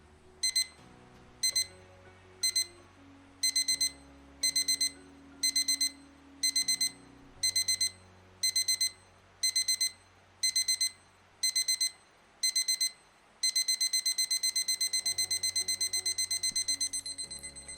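An iamclock IMC1009D LED wall clock alarm beeps in regular bursts that grow louder and faster through four levels, ending in a continuous rapid beeping, close and clear.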